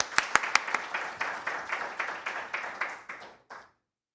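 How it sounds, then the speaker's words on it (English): Forum audience at a Korea-Germany digital health technology cooperation event applauding, starting with a few sharp separate claps that build into a steady round of moderate clapping, then stopping abruptly. "Please welcome him with a big applause."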